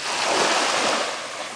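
Ocean surf washing onto a beach, a steady broadband wash of breaking waves with some wind noise, close and fairly loud throughout.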